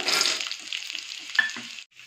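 Green chillies and roasted gram fry in a pan for kadlepuri, a brief close sizzle with a few scraping stirs before it cuts off.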